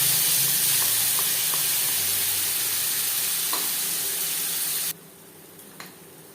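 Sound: spice paste frying in hot oil with cumin

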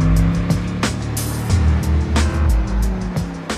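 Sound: Mercedes SL63 AMG 6.3 liter V8 engine

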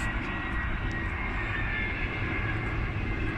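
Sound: Airbus A319 passenger plane flying overhead

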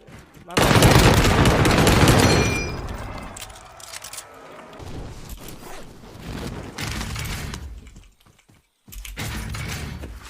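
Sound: StG-44 gunfire in Warzone Pacific video game

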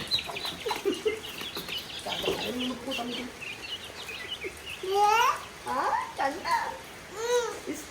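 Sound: chickens clucking

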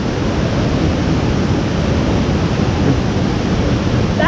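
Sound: roaring water of Kuang Si Falls waterfall, Luang Prabang

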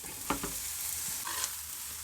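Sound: eggplant being added to a hot pan and stirred while frying

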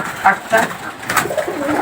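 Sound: pigeons cooing

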